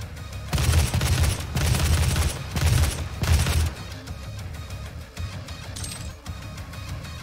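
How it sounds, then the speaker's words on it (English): Heavy assault rifle in DOOM 2016 fires in loud sustained bursts, three rapid volleys separated by brief gaps, then the shooting stops and quieter game sounds follow. "was it a heavy assault rifle?"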